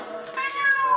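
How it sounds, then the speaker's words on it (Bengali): A kitten gives a thin, rising meow close by, a single short high-pitched cry over quiet background. "দেখো কটুপুরি বিড়াল মিউ মিউ করছে"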